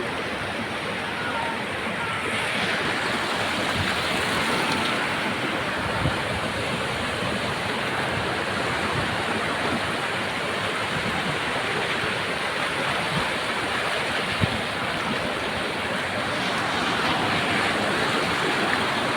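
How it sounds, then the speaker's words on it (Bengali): Steady broadband rush of surf washing onto Laboni Beach, Cox's Bazar, at night, continuous and fairly loud, with no clear breaks between waves. "আমাদের পেছনে ঢেউ।"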